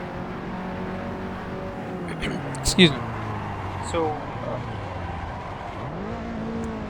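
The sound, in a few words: race car engine while driving in the video game Assetto Corsa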